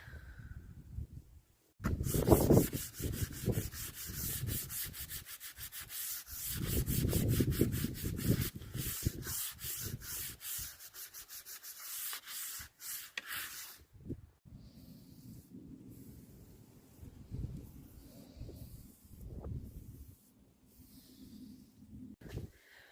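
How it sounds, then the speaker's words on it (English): Light hand sanding of a piece of furniture before painting it white, a steady rubbing and scraping in repeated strokes, close and fairly loud, easing to softer, quieter scrubbing toward the end. "I'm gonna give it a light sand just to give it an edge, and then paint it white"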